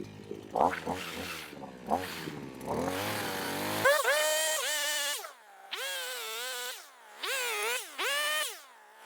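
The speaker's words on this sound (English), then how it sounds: "now let's start it up and see if we got any saw action going on" A Neotech 5-in-1 weed eater fitted with its chainsaw attachment fires up and runs, the small two-stroke engine revving in repeated rising and falling bursts with brief idle gaps, close and loud.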